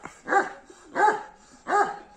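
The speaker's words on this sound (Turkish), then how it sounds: "Bu bekçi köpeğimiz kızdı." A guard dog barks angrily at strangers passing on the road, three loud, close, evenly spaced barks with no talk.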